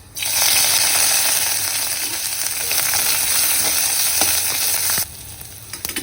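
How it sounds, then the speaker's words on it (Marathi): Ground masala paste for Maharashtrian pitla dropped into a hot pan with mustard seeds, setting off a loud, steady sizzle with crackling pops that drops off abruptly near the end. "आता हे आपण जे पेस्ट रेडी करून घेतलं आहे ते टाकूयात"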